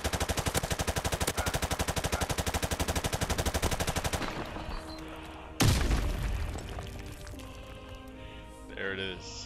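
Rapid automatic gunfire in the video game PUBG, a long steady burst of close, loud shots, then a sharp explosion-like blast trailing off, with a player talking over it.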